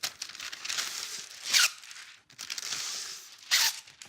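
Baking paper torn in a kitchen, two quick ripping tears each ending in a sharp, louder snap, crisp and close with a rustling crinkle between them.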